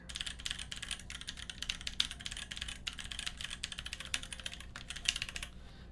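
Typing on a rebuilt Noxary 268 mechanical keyboard with tactile switches produces a fast, steady patter of crisp keystroke clicks and clacks, close and alone, ending in a brief pause.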